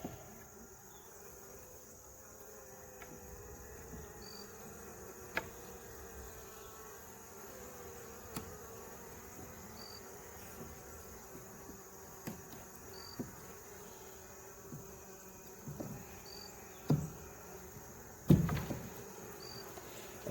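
Honey bees on a hive frame give off a faint, steady buzz, with soft wingbeat whines passing now and then. Scattered clicks and knocks from handling the frame get louder toward the end.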